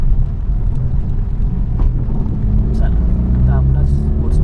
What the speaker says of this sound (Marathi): टाकल्यानंतर आवाज करते गाडी